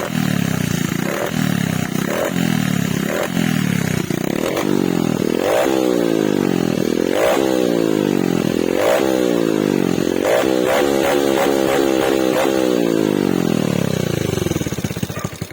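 A Raider J115 Fi motorcycle engine with a faulty spark plug, loud and close, revving repeatedly in sharp bursts that fall back toward idle, with a rough, sputtering edge throughout.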